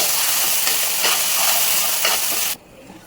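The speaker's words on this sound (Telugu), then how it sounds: "మనం రుబ్బి పెట్టుకున్న మసాలాని ఇందులో వేసుకోవాలండి. ఇందులో పచ్చి వాసన పోయేదాకా ఫ్రై చేసుకోవాలండి" Ground masala paste frying in a pan for paneer butter masala curry, giving a loud, steady hissing sizzle with faint stirring scrapes, which drops away abruptly near the end.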